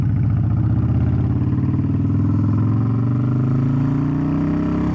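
Motorcycle engine idling and then revving steadily, a loud, close mechanical drone whose pitch rises slowly as the bike pulls away in first gear, with no talking over it.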